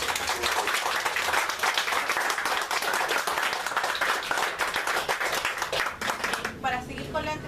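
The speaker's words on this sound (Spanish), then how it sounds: "Por favor, le damos un aplauso acá." An audience claps steadily for several seconds at a conversation event for March 8 at a cultural center. A voice begins to speak as the clapping ends.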